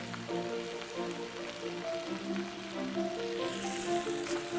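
Chicken skin frying crisp in a pan for Korean dak-galbi, a close, crackling sizzle like light rain, running steadily with a faint tonal hum underneath and no talk.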